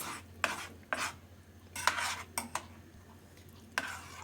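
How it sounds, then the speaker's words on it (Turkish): A spoon scrapes and knocks against a pot in irregular strokes while stirring a thickening bean-based cake cream, over a low background hum, close and moderately loud. "Karıştırmayı hiç bırakmadan iyice koyulaşana kadar pişireceğiz."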